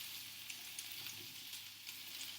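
Mushrooms and peppers frying in a pan with oil left from turkey and chorizo meatballs, a soft steady sizzle with faint crackles, fairly quiet and uninterrupted with no talking.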